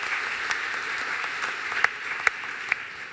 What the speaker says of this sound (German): Auch ein Applaus für Sie.